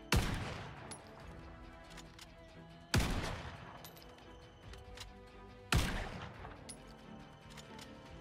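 Three single rifle shots from a headhunter rifle in a video game ring out a few seconds apart, each a sharp loud crack followed by a long ringing decay.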